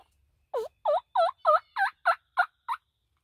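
A wild turkey hen yelps in spring woods in a steady series of about eight clear, evenly spaced calls, fairly close and loud, then falls silent.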